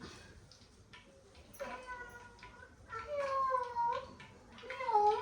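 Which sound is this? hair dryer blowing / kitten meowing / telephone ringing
kitten meowing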